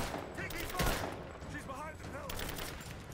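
Enemy gunfire in Rise of the Tomb Raider, quick bursts of shots and a heavy impact crackling beneath a game mix, fairly faint overall, with a player's voice talking over it at times.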